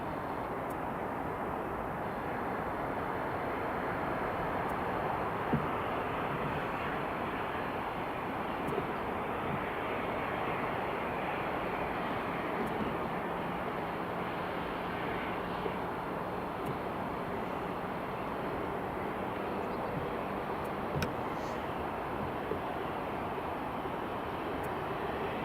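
An airliner touches down at Edinburgh Airport with a broad, steady rushing roar that holds at even strength and stays at a distance, with faint clicks scattered through it.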